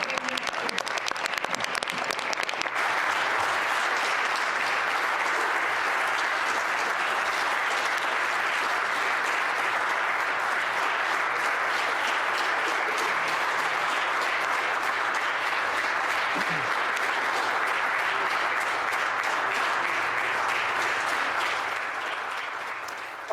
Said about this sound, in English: rousing applause there for Finance Minister Peter Bethlenfalvy as he introduces Ontario's plan to build a progress update